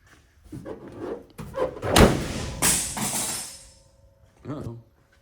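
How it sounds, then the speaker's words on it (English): The heavy metal hood of a 1977 Ford F150 4x4 pickup truck slams shut with a loud thud, surrounded by nearby talking before and after. "I slammed the hood and knocked an emblem off."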